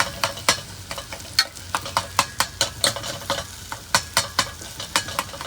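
Tomatoes being smashed and stirred in a pan while cooking inside a tanker vehicle, with repeated sharp scraping taps at a quick, uneven rhythm over a soft sizzle, close and fairly loud, with no talk.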